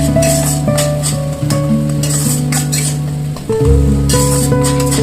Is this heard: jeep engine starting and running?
no